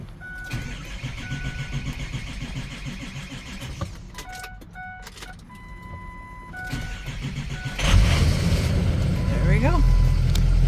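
A 2003 Ford Excursion turning over on a cold start, its engine catching and rising to a loud, steady idle near the end, following a stretch of background noise, clicks and tones, with a person speaking quietly over it.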